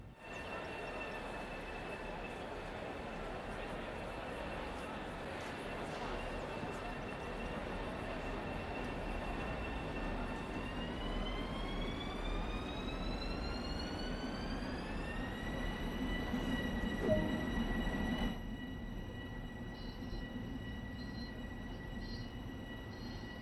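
An M7 train in Train Sim World 2 pulls away from a stop, a steady rumbling hum with motor whine rising in pitch as it gathers speed, then cutting back abruptly near the end.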